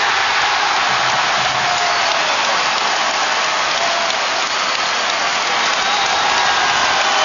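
A loud, dense roar from a basketball arena crowd during a 2006 NBA Western Conference semifinal playoff game between the Mavericks and Spurs, directed at Tim Duncan at the free-throw line, a steady wash of noise throughout.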